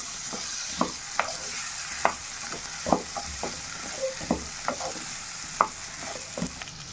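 Chopped potatoes sizzle quietly in a pan as a spoon stirs and scrapes them at irregular intervals, soft clinks over a low steady frying hiss, heard up close with no talk.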